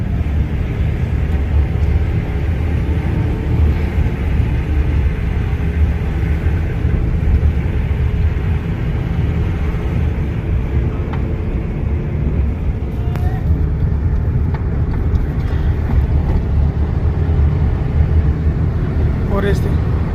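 A car engine drones steadily at close range during a driving lesson, a dense continuous rumble with a gradual rise in revs, heard inside the car with an instructor's voice talking over it.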